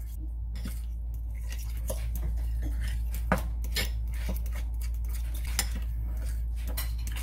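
Guacamole being mixed with lime juice in a bowl, with soft scraping and occasional utensil taps against the bowl over a low steady hum, no clear talking.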